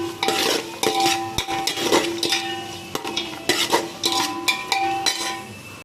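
Onions being sautéed in a pot for biryani, with steady stirring and scraping of a spoon against the metal and repeated clinks, over a soft sizzle and no talking.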